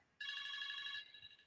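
A phone rings with an incoming call, one bright electronic ringtone burst of just under a second, close and clear, then cut off into quiet room tone.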